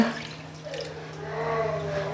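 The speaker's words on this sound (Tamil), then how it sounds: "இப்போ நான் ஒன்பது கப் தண்ணி தான் விட போகிறேன்" Nine cups of water poured steadily into a pot to cook chicken biryani rice, a continuous close liquid wash over a low steady hum, with no talk.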